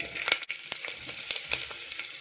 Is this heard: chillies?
yes